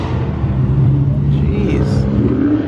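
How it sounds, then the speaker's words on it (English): Car engine revving at a busy car meet, a steady throaty drone somewhat distant beneath a crowd of overlapping voices and people talking nearby. "Somebody's already revving like crazy over there."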